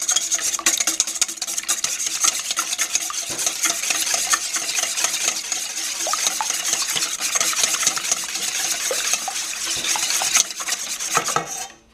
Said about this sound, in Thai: อันนี้ก็เอาใส่ไข่แล้วก็ตีไข่นะคะ